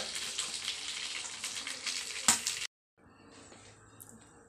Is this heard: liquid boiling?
yes